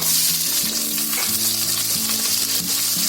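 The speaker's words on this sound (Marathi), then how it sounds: "कांदा मस्त एकदम फ्राय झालाय" Chopped onion with cumin crackles hard in hot oil for vada sambar, a dense, loud, close sizzle that runs without pause, with faint stirring and no voices.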